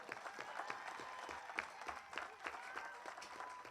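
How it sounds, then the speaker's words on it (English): Applause from an audience at a women's college soccer awards moment honoring a Pomona player, moderately faint and steady throughout, with scattered speech-like sounds mixed in. "Let's have a big round of applause."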